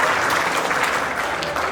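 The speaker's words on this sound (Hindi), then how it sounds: "जोरदार तालियों से इस्तकबाल करें।" Dense, steady audience clapping fills a mushaira poetry recital at the International Mushayara of the Bihar Anjuman Jubail Chapter, sustained and even from start to finish.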